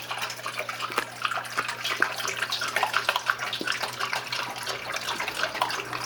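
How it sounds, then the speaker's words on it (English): A recycled automatic dog water fountain runs with a steady trickling, splashing flow of water, moderately close and continuous, with no talking. "Automatic doggy water."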